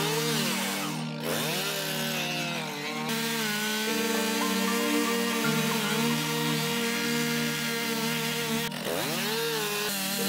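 A chainsaw cuts through trees while clearing forest for pasture, a steady, fairly quiet engine whine, with brief revving dips near the start and near the end.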